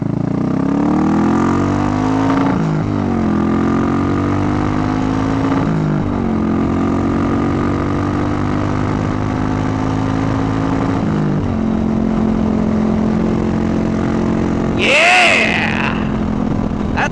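A small Buell Blast beginner motorcycle engine runs steadily on a test ride, its drone rising and dropping through several gear changes, with a brief gust of wind rushing past near the end.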